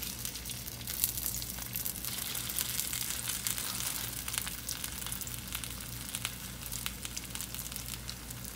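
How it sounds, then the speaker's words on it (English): A tortilla dipped in birria consomme sizzles and spatters steadily in a hot pan, a continuous close crackle of frying with small pops throughout. "And you fry it."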